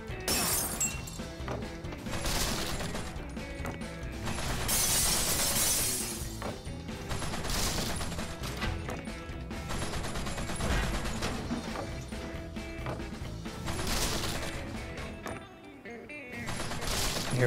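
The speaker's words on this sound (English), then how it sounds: "I'm just gonna shoot as many things as I possibly can" Rapid turret gunfire blasting targets in the video game Wet, continuous loud bursts mixed with shattering and smashing impacts over about seventeen seconds, dense and unbroken with brief dips.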